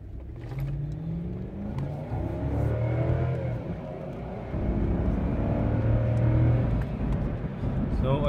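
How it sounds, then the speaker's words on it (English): A 2003 Toyota 4Runner V8 with its front driveshaft disconnected is driven, its engine droning steadily with rising and falling pitch as it accelerates, a continuous close drone with road rumble and faint talk underneath. "now I'm gonna try driving it"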